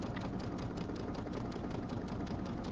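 A sewing machine stitches in the ditch along a quilted table runner, its motor running in a steady, even, close-up hum for the whole stretch with no voices.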